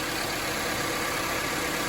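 A 2019 Subaru Crosstrek Limited with a 2.0-litre Boxer engine idling under the open hood, a steady, even hum and whir heard up close with no talking.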